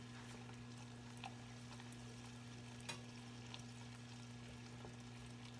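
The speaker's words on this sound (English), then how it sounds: "So now I'm just going to stir everything up real good." A pot of hot candy sugar mixture being stirred for coating apples: faint scraping and bubbling over a steady background hum, with a few small clinks and no talking.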